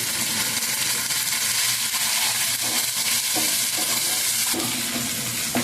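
Turmeric frying with ginger in a hot pan, a loud, continuous sizzle with faint stirring scrapes throughout, no voices.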